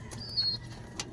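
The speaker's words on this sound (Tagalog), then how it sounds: "Kapakain tayo ng mga kalapati natin." Pigeons at feeding time make a brief soft coo and a faint flutter of wings, with a short high chirp, all quiet and close within a second.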